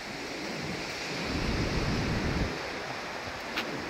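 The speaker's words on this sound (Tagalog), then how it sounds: "Lakas ng hangin." Strong wind blows at a beach resort in San Juan, La Union, a loud broadband rush that swells in the middle, with no voices.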